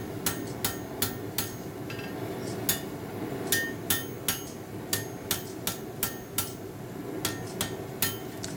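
A hammer rings out in sharp metallic strikes on an iron bar being straightened on an anvil while forging a fireplace tool handle, about fifteen evenly spaced blows in small bursts over a low background hum.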